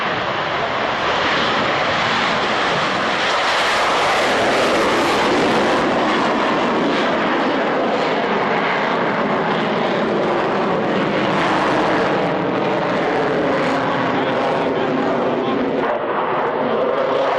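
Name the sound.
Lockheed Martin F-16A Fighting Falcon jet display flying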